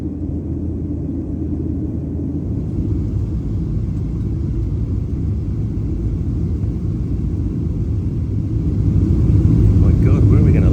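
Airplane in flight on the five-hour leg from Hawaii to Majuro in the Marshall Islands, a loud continuous cabin rumble of engines and airflow, steady throughout and rising slightly at the end, with people talking over it.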